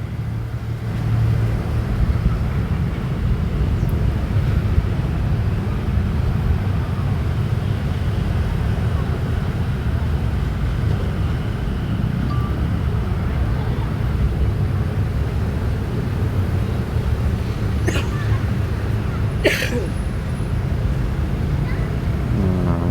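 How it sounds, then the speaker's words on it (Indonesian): A dump truck drives in along a newly built road in Bekasi, a steady low engine rumble mixed with outdoor wind noise, while someone talks over it. "Tuh dump truknya masuk lewat situ ya teman-teman."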